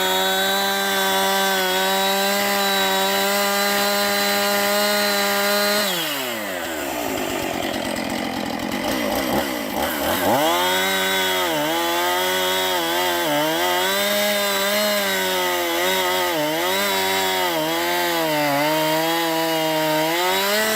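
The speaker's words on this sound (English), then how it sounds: "He was using a chainsaw to cut through that wood." A close, loud chainsaw drones at a steady pitch, dips sharply as it bites into wood, then revs up and down while cutting, with no voices.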